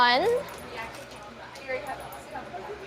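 A dog at an adoption event gives a single rising whimper-like yelp at the start, followed by quieter room noise with faint indoor sounds.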